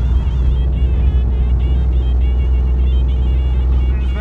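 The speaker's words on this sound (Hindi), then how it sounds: "फर्स्ट गियर में ही गाड़ी चढ़ रही है गाइस" A car engine labors uphill in first gear on the mountain road to Jalori Pass in Kullu, Himachal Pradesh, a steady low droning rumble heard from inside the vehicle with no talk.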